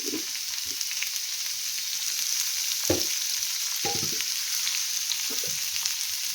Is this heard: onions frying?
yes